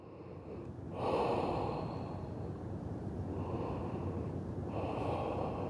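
Slow, deep breaths during a held yoga pose in a menstrual-cramp practice, with a long inhale swelling after the first second and a second breath near the end, close and steady without talk.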